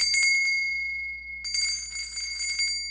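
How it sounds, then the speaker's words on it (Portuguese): A church bell rings out at five in the afternoon with bright, sustained metallic tones. One burst of strikes is followed by a pause and then a second, longer burst, ringing loud and near with a lingering hum between. "O sino da igreja tocava às 5 da tarde"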